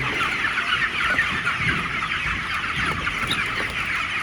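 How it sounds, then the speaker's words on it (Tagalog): A crowd of chickens clucks continuously at close range, a dense overlapping chatter of hens with no pauses. "maririnig mo yung mga manok na"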